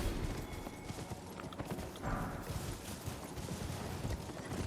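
Horse hooves gallop across terrain in Elden Ring, a dense, continuous clatter of rapid hoofbeats blended with rumbling ambient game noise at steady loudness.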